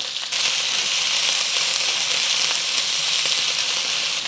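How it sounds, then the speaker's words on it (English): Onions added to a hot pan beside browned pork fry with a loud, continuous close sizzle that starts abruptly and holds steady hiss throughout, no voices. "I'm going to add my onions"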